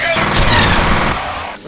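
Rapid gunfire in the F.E.A.R. video game, a dense loud burst of shots with explosive impacts that fills the whole moment, easing slightly toward the end.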